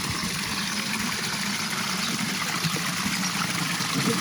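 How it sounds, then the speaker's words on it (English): Clean, drinkable water runs through an 1800s monastery converted into a hotel, giving a steady, even rush of flowing water with a low background hum and no pauses. "here you see the water that runs through the hotel"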